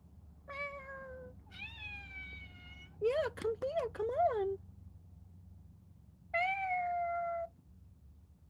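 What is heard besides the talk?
cat meowing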